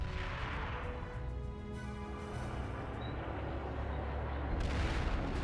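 Anti-tank mine blasts and battlefield rumble from the Heroes & Generals war game, a steady heavy low roar with a swell of louder booming near the end, no voices.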